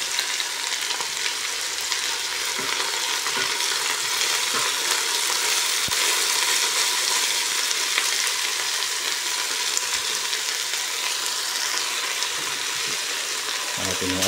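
Ampalaya vegetables fry in a hot pan with a loud, continuous sizzle that stays steady throughout, close up, with occasional light clicks of stirring.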